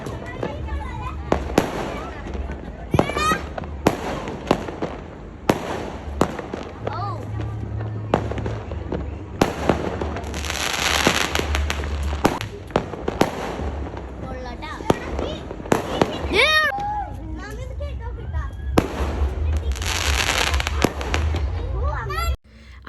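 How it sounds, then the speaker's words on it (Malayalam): New Year fireworks and firecrackers go off at midnight around a home, with repeated sharp bangs, crackles and whistling rockets near and far, while people talk and shout throughout. "കറക്റ്റ് 12 മണിയാകുമ്പോഴത്തേക്കും ഇവിടെ പടക്കം പൊട്ടിക്കും"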